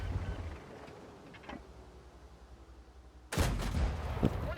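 A tank cannon in World of Tanks fires with a sudden heavy boom that rolls on for about a second over a low engine rumble.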